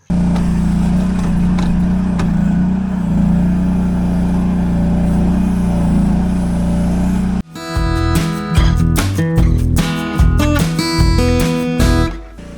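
A Mech Maxx MEC10 1.4-ton Chinese mini excavator's engine runs steadily at about half throttle with a low, even drone for over seven seconds. It then gives way to a harsher, irregular stretch of music-like sound.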